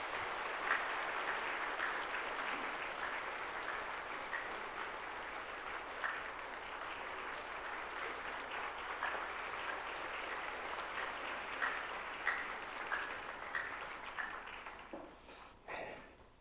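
A church congregation applauds warmly during a Sunday worship service, a steady, even wash of many hands clapping that holds for about fifteen seconds before tapering off near the end.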